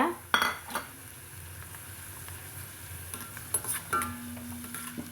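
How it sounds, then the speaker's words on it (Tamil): Dried drumstick vathal frying in hot oil gives a light, faint sizzle, broken by a few clinks and scrapes of a utensil against the pan. "எண்ணெய் காஞ்சதும் இந்த வத்தலை நம்ம பொறிச்சு எடுத்துக்கலாங்க"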